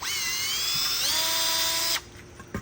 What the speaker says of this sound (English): I'm just gonna clean this up really quick with just a drill with these like wire brush attachments